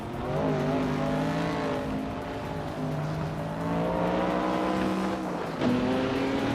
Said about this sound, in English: Pippi Langstrom's car is a 1973 Porsche 91730 Spider.